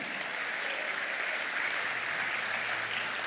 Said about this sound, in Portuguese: Celebre, bata palmas.